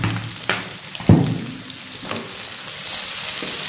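Masala paste fries in a pan for a goat brain dish, a close bubbling sizzle broken by a few sharp stirring clatters.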